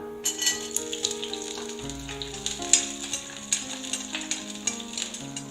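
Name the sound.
garlic cloves frying in a pan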